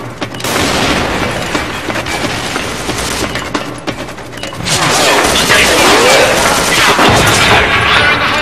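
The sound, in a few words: grenade explosion and gunfire in video game Special Force 2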